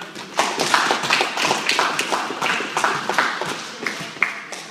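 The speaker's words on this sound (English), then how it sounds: "Give her a round of applause." A small crowd at a kickboxing gym applauds a student's belt promotion, steady close clapping from a handful of people with a few sharp individual claps standing out.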